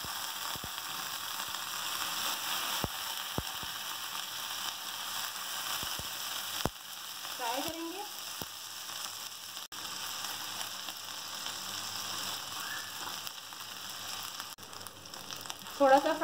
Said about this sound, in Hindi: अब 2 टेबल स्पून अदरक लहसुन पेस्ट डाल देंगे।